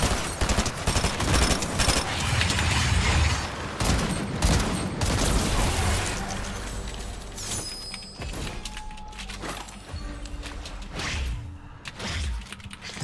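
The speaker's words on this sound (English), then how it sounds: "I'm using two burst SMGs here" Rapid bursts from burst SMGs in the game Fortnite, Zero Build ranked solo mode, fire as dense, loud rattling volleys, heaviest in the first half and then thinning into scattered shots with whooshes and thuds, no voices.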